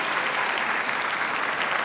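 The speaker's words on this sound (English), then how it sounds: "Let's have another round of applause for my former student here at Chabot, Mayor Mark Salinas." Dense applause from a college commencement crowd honoring a mayor, continuous and even with no voices over it.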